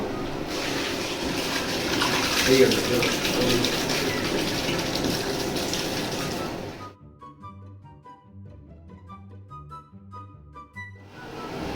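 Water rinsed from a jar is poured into a cooking pot of curry with soaked rice, a steady loud gushing pour that stops abruptly, followed by quieter kitchen clatter before another pour begins.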